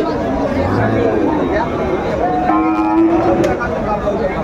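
A cow moos loudly amid a busy crowd of chattering voices and general hubbub at the Aftabganj cattle market.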